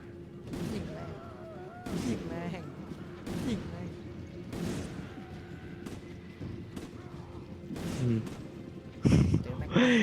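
Gunfire from the video game Resident Evil 5, a series of sharp shots spaced every second or two under steady excited talk, with a heavier blast near the end.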